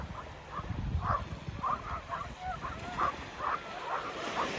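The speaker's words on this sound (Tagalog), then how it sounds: "Ingay ng mga aso, nililigo sila." Dogs being bathed let out a run of about nine short, high yelping whimpers at an uneven rhythm. The sound is fairly faint over low rumbling background noise.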